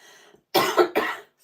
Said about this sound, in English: Just getting over a cold, so I've just got that lingering cough.